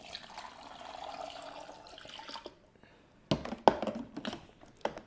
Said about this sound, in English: we're going to pour it right into the chamber